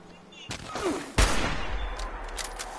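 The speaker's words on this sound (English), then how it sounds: "I just sniped one with 50 cal" A .50 cal sniper rifle shot in Fallout 76 cracks out sharply, one loud booming report followed by a rolling echoing tail, preceded by a softer earlier burst.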